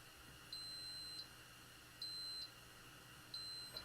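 A Macintosh Classic II computer gives three sustained electronic beeps, each about half a second long, spaced evenly over a faint background hum.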